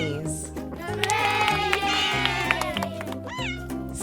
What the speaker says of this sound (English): It's a cat. Siamese.